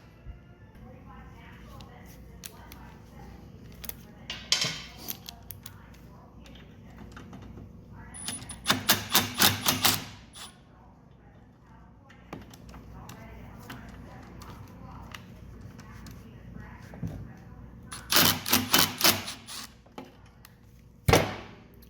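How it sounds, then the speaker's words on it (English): Wrench loosening the two carburetor studs on a Tecumseh engine from a Craftsman lawn mower, giving bursts of rapid metallic ratcheting clicks between quieter handling noises, close up, with someone talking at times. "So we're going to get these two studs removed and get this carburetor off."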